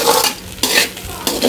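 Egg rice with pepper being stirred in a pan: a spoon scrapes and clanks against the metal in repeated loud strokes over a faint sizzle.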